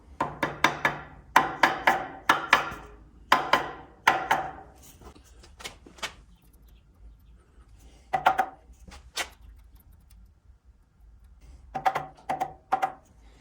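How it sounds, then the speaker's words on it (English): Sharp metallic taps from a tool driving a cylinder sleeve down into a 1952 Case DC tractor engine, delivered in quick bursts of several strikes separated by pauses, close and fairly loud. "So I'll tap this down a little bit at a time and use the tool"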